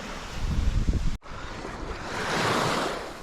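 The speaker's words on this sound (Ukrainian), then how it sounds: "бачите, який вітер" Strong wind at the shore of the Kyiv Reservoir buffets the microphone with a loud rushing roar, cut briefly, then surging again like surf along an open shore.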